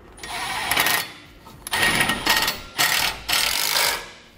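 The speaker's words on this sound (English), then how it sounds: "Then with a 6 millimeter hex bit, we'll get these snugged down." A power driver with a 6 mm hex bit snugs down bolts while mounting air helper springs on a vehicle, in four loud whirring bursts separated by short pauses.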